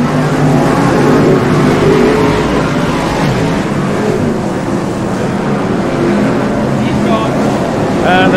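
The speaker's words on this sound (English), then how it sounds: "Lots and lots of cars out there, the big league BriSCA Formula 1 stock cars." BriSCA Formula 1 stock cars racing in a big field at Northampton in 1999, a loud, continuous roar of many engines blending together, with an announcer's voice partly mixed in throughout.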